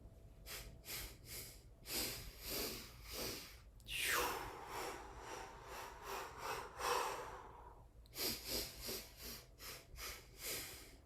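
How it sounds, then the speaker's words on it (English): Rhythmic yoga breath pumping, with quick pulsed breaths in and out through mouth or nose in close repeated bursts, plus one longer drawn breath in the middle, soft and intimate with no talking. "just pulsing the breath in and out"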